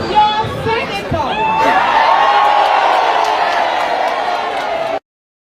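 A large crowd at a political rally cheers and whoops, a dense, loud roar of voices that swells and holds steady before cutting off abruptly.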